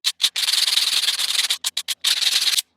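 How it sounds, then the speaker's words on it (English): Sandpaper rubbing across a new utility knife blade to dull its edge: close, harsh scraping strokes, a few short passes followed by a long sustained rub, a quick burst of brief strokes, then another long rub, with no talk. "I like to just dull that down with a bit of sandpaper"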